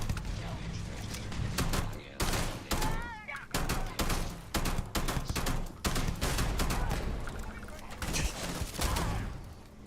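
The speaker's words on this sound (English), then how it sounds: "But it's all the pistols I've got are double firing." Pistol gunfire in the sci-fi game Starfield, each trigger pull firing twice, rapid sharp shots in quick bursts with short pauses, loud and close, with voices and other battle noise mixed in.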